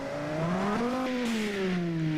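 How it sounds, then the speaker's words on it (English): A video game car engine in a front-wheel-drive supercar revs steadily, its pitch climbing, then easing back down in a smooth, continuous drone with no voices. "I would say it's a pretty good sounding engine"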